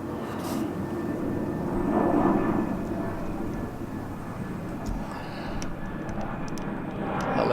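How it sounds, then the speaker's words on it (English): An airplane passes overhead outdoors, a broad, steady low roar that swells gently and then holds on through the whole stretch, with no voices over it. "I'll let the plane go over."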